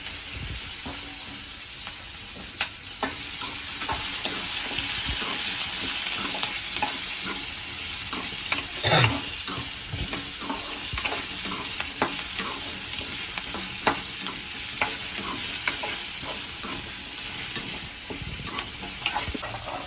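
Small onions and curry leaves sautéing in a pan for vathal kuzhambu, a constant close sizzle with frequent scraping stir strokes and a sharper clatter near the middle, and no voices.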